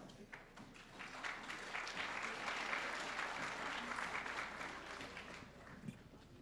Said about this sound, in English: our incoming ninth graders deserve a way better round of applause